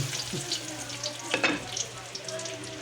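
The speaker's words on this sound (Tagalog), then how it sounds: "mix po natin ang ating sibuyas" Chopped onions stirred and frying in a pan for pinakbet, a soft, low sizzle with a brief utensil scrape and clatter near the middle, fairly quiet throughout.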